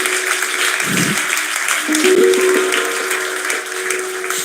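A crowd at a satsang gathering in Godhra claps in continuous, dense applause that holds steady and fairly loud for several seconds.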